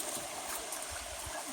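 Creek water running steadily beside an old mine portal and flumes, a soft continuous rushing wash that stays even and fairly faint throughout with no voices.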